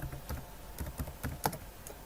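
Light keystrokes on a computer keyboard, a short burst of about eight soft, irregular taps, close and fairly quiet, with no talking.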